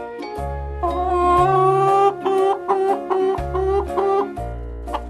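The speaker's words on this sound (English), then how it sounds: "Hen." A cartoon hen clucks in short bursts over a bouncy children's music track with steady bass notes, heard close and fairly loud.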